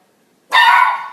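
A puppy gives a single loud, close, high-pitched bark that cuts in sharply after a moment of near silence.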